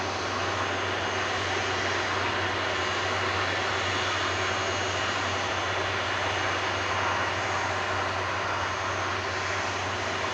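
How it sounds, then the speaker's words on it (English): Jet2 Airbus A330-200 with Rolls-Royce Trent 700 engines, operated by Air Tanker, at Manchester Airport: a loud, steady jet engine roar with a low droning hum, sustained and unbroken throughout. "This Jet2, operated by air tanker A330-200 VYGM, going over to Faro in southern Portugal with flight 875."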